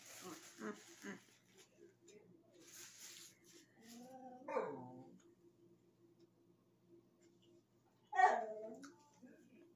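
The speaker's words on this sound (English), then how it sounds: "That's my dog, by the way." A house dog gives a couple of short whining barks that rise and fall, once mid-clip and again near the end, in a quiet room where a person speaks softly near the start.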